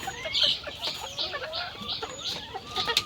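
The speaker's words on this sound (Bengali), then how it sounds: "এই যে বন্ধুরা দেখতে পাচ্ছেন এগুলো হলো আমার মুরগি" Several chickens cluck and murmur close by, short bright calls overlapping in a busy, continuous chatter.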